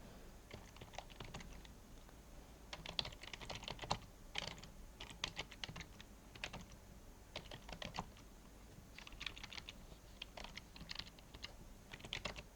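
Fast bursts of keystrokes patter on a computer keyboard while a webpage description is typed in RocketCake, close and quiet with short pauses between runs and no voices.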